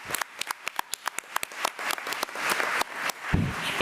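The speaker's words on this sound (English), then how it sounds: "If you all would give her a round of applause" Applause at a school policy committee meeting for a student's mother, a small crowd clapping at close range, starting with distinct separate claps that quickly blend into dense steady clapping for about four seconds.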